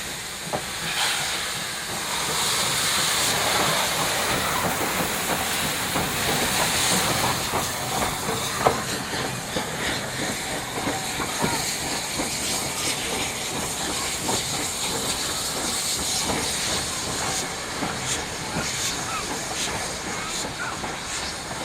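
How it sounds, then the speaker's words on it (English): A Skånska Järnvägar steam train departs southbound, its steam hissing continuously with a rolling clatter of wheels and carriages over rails throughout, one sharp knock near the middle, and a voice heard briefly. "the Skånska Järnvägar steam train departed, southbound for St. Olaf and Gärsnäs"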